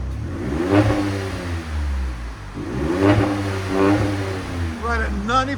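A RAM 1500 truck engine, 3.0L Hurricane or 5.7L HEMI, gives several loud nearby revs that rise and fall in quick succession, ending in sharper rapid blips.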